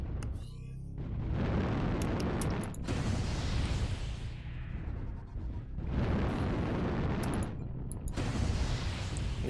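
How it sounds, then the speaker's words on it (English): Weapon fire and explosions in a mech combat game, with long loud rumbling bursts of blasts and roaring impacts in repeated waves, separated by brief quieter gaps. "alright, Inko, you can try and shoot me now."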